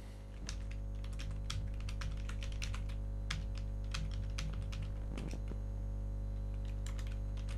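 Quiet clicking of typing on a computer keyboard, irregular bursts of keystrokes over a low steady electrical hum.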